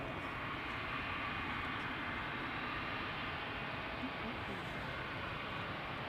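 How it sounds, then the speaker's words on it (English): An Air Baltic Bombardier C-Series 300 airliner runs its engines at Schiphol. A steady, broadband jet rumble and hiss stays fairly faint and distant and is continuous throughout. "another Bombardier C-Series 300, this one going to Vilnius"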